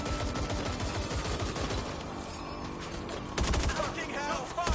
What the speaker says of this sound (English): Shots fired! Shots fired!